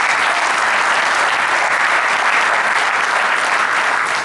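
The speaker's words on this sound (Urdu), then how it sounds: "ان کے لیے تالیاں دیں" Dense, steady applause from a large audience at a mushaira poetry gathering, loud and continuous for the whole stretch with no talk over it.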